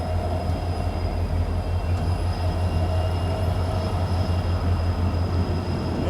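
A train on the Hubballi to Kushtagi line rumbles steadily from inside the carriage, a loud, continuous roar with low drone and rattling and no voices.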